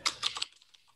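A short flurry of computer keyboard keystrokes, four or five crisp close clicks in quick succession followed by a few softer scattered taps.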